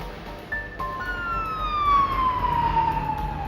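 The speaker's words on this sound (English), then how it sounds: "Emergency vehicles arrived moments later." An emergency vehicle siren wails loudly, its long tone sliding downward over a rumbling road background, as though the vehicle is passing close by.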